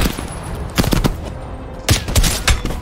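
Gunfire in the Call of Duty Black Ops Cold War campaign, several bursts of sharp shots in clusters with quieter gaps between, loud and close.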